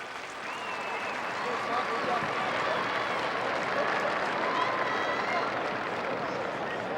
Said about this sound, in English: the crowd giving Mike Schrag a well-deserved round of applause